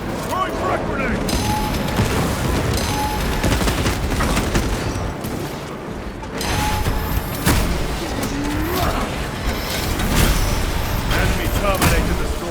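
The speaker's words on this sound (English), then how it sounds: "Throwing frag grenade." A frag grenade bursts amid constant heavy gunfire and booming explosions in the Warhammer 40000: Space Marine 2 video game, loud and chaotic, with several deep blasts under the fighting and voices heard throughout.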